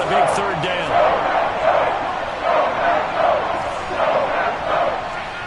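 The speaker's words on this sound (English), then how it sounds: "the crowd getting into it as we come up on a big 3rd down" Football stadium crowd roaring ahead of a big third down, a broad steady swell with rhythmic surges like chanting, loud and continuous at a distance.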